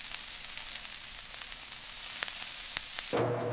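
Burger patties sizzle on a hot grill in a hamburger factory line, moisture hissing to steam in a steady broadband crackle with a few sharp pops, fairly quiet, then a brief clunk near the end.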